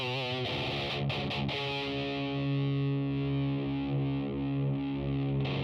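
Electric guitar driven through a Screaming Blues overdrive pedal into a Tonex, playing a few choppy distorted strums and then a long sustained crunchy chord that rings steadily and close, with no talking.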